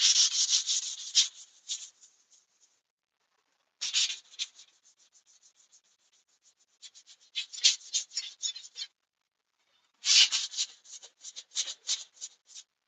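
Wood being sanded by hand, with bursts of fine scratchy rubbing strokes separated by pauses, close and fairly loud with no talk.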